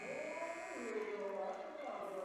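A buzzer sounds at the end of a quarter in a high school boys basketball game between Wood County Christian and Parkersburg Catholic, a steady electronic tone under continuous play-by-play commentary and crowd noise.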